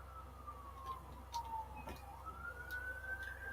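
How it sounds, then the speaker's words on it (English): Emergency vehicle sirens pass by outside, a faint wailing tone sliding down and back up over steady background hum, distant rather than close. "Got the sirens coming by."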